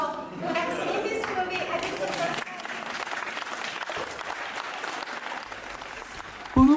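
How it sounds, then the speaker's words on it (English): An audience at a film festival world premiere screening claps steadily, a moderate wash of many hands, with a voice speaking over the start and crowd chatter running beneath. "Maybe the claps from the audience can."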